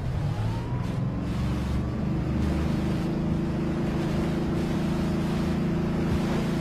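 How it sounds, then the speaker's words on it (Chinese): A motorboat in the video game Just Cause 3 runs with a steady, loud engine drone and a rough watery churn, holding a constant pitch throughout with no voices. "摩托艇速度快"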